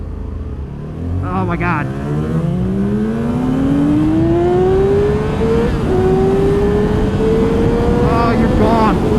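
Yamaha R6 and R7 motorcycles launch off the line, engines rising in a loud climbing pitch sweep as they accelerate together, close by, with a brief exclaimed voice.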